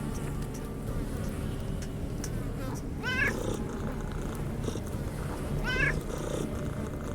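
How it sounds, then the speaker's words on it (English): Cats in the Underrail video game give two short, rising meows about three seconds apart, heard over a steady droning game ambience with low rumble. "Cats are getting pretty close here."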